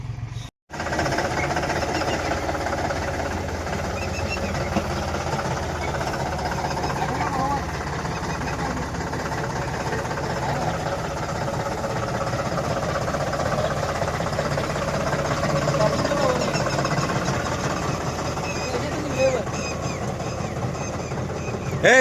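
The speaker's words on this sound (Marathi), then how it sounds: "चला आपला ट्रॅक्टर जोडायचा आहे," A John Deere tractor's diesel engine idles nearby in a steady, loud mechanical rumble that runs unbroken through the whole stretch.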